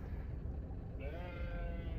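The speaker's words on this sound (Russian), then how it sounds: "На тебя кричит баран, стал посреди дороги" A ram standing in the middle of a road in the Caucasus bleats loudly and close by in a long, wavering call that stands over a steady rumble of background noise.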